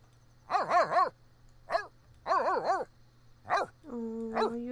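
A stray dog in the video game The Sims 3 barks in several short bursts of yips and whimpering barks, close and clear over a low steady hum, ending in a drawn-out whine.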